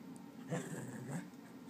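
Molly the dog gives soft, high whimpers, two short whiny bursts close by and fairly quiet, with no one speaking.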